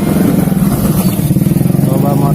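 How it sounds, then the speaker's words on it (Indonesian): Many motorcycles on a street pass close by, their engines putting out a loud, continuous pulsing drone, while people talk over the traffic. "banyak motor"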